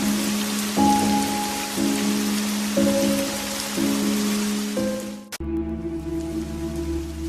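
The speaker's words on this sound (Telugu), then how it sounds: "ఏంటి ఈసారి వర్షాలు బాగా పడుతున్నాయి." Heavy rain pours steadily in a constant broadband hiss over farmland where crops are growing, with sustained musical tones layered on top and a brief sharp break near the end.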